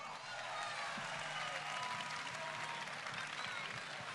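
Sustained crowd applause at a comedy award gala, dense clapping from a large audience that stays steady throughout, with faint voices murmuring underneath.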